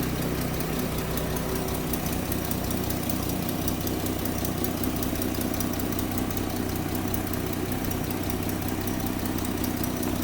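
A 1959 Dodge Coronet four-door sedan engine idles steadily and evenly up close, a continuous low rumble with no pauses and no voices.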